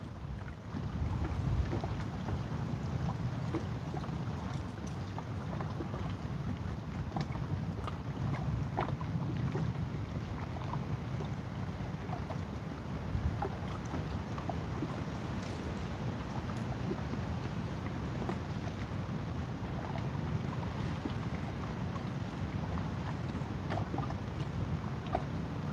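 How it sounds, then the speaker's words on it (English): Steady, strong wind roars and buffets outdoors on the water while catfishing from a boat, a dense continuous rush with gusty thumps on the microphone and no talk. "The wind is supposed to die down a little bit closer to 7."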